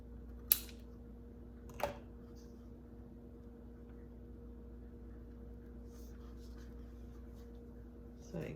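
Two quick, faint snips cut a small piece off a Dollar Tree farmhouse kitchen decor craft, about a second apart, against a quiet room hum.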